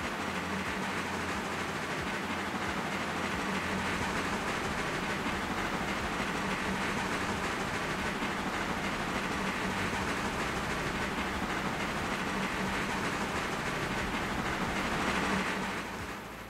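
A train passes very close and very loud, a steady, dense roar of wheels and rails lasting throughout with no letup.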